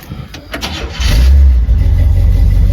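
A 1951 Chevrolet 3100 three-window pickup, a patina rat rod shop truck, cranks briefly and then fires, settling into a loud, close, low rumbling idle.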